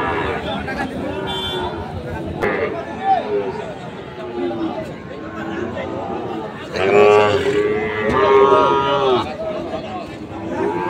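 Sahiwal calves and bulls at a Friday cattle market low in drawn-out moos, rising loudest midway, amid crowd chatter and people talking nearby.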